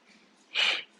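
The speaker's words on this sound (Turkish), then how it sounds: "Nefes aldık." A single short, breathy inhalation taken during a Cossack squat exercise, close and brief amid a quiet room.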